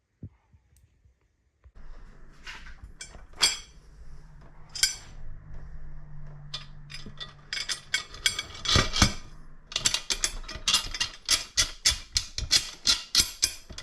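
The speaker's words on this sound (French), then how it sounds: "Parti pour le serrage avec la douille spécifique." A ratchet with a special socket tightens the bolts on a 1988 BBS RS split-rim wheel, giving metallic clicks that start sparse and turn into a fast, steady run of close ratcheting.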